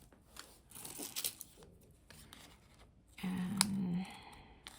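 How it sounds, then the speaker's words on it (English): Protective plastic film peeled off a new item during unboxing, soft crinkly tearing and rustling at close range, followed by a brief steadier drawn-out peel sound. "Peel that off."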